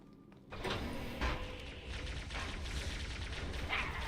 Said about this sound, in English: There's a jackal up there shooting at me.